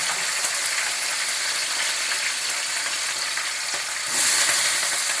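Green chillies fry in a pan while aval kozhukattai is cooked, making a continuous crackling sizzle with faint scraping that swells louder near the end; no one speaks.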